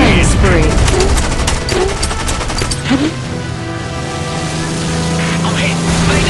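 Dense, continuous gunfire in the War Wings combat flight game, rapid bursts layered over a loud droning aircraft engine, with a synthetic voice briefly calling out alerts.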